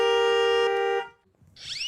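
A vehicle horn blares in one long, loud, steady honk lasting about a second, followed by a short pause and then a different high, warbling electronic tone.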